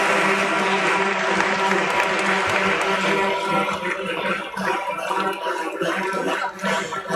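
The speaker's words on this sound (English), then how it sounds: "Please give a big round of applause." Audience applause for honorees at the Landmark Cars Limited listing ceremony at BSE, a steady wash of clapping over sustained tones in the hall that thins out toward the end.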